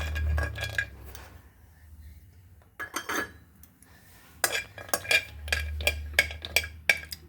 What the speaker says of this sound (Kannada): ಆ 8-10 ಗೋಡಂಬಿನ ಈ ತುಪ್ಪಕ್ಕೆ ಹಾಕೋಣ